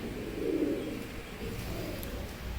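Oman pigeons cooing close by, a low soft rolling coo that swells briefly and then fades into quieter murmuring, with no talk over it.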